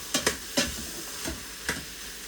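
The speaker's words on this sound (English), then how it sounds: "It's sauteing and it's browning the meat." Meat sautéing in a pan gives a steady sizzle. About five sharp scraping stirs land at irregular intervals. The sound is close and clear, with no voices.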